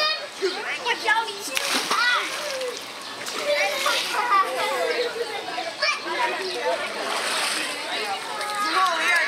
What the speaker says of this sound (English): Ryan, be careful with Ethan in the water now.